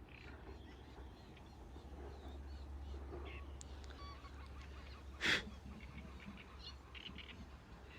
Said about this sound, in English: I can hear those swans from here too. They're bellowing and posturing with each other.